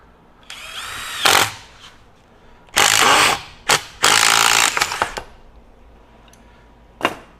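Bosch Freak GDX18V-1860C cordless impact driver on speed 3, fitted with a T40 bit in a 1/2-inch anvil, fires off several short loud hammering bursts separated by pauses, with a final brief burst near the end.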